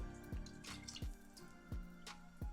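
Pot liquor from cooked greens poured into a canning jar, heard as a faint, close series of four evenly spaced liquid drips and splashes with quiet room background and no voices.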